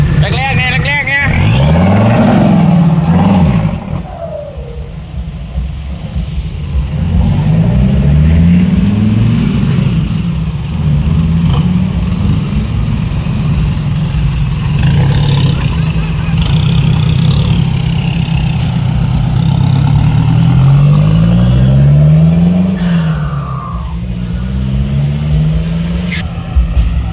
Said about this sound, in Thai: มาดูรถแรงออกจากวัดครับ